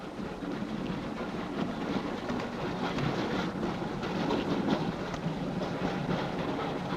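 A train running on its rails, a steady rumbling roar with faint rhythmic clatter from the wheels, continuous and fairly close, with no voices.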